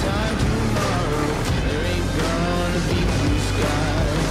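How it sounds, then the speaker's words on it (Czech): A dune buggy engine driving in Tunisia, loud continuous rumbling motor with rough throttle changes, close up, with voices faintly underneath. "Jedeme na buginy."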